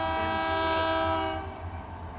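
Kiamichi Railroad locomotive 3380 passes in Idabel, Oklahoma, its loud chord horn blaring over a low rumbling engine, the horn ending partway while the rumble of the passing train continues nearby.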